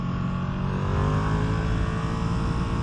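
Ducati Streetfighter V2 motorcycle engine held at high revs, a loud, steady, close roar with a continuous droning tone and no pauses.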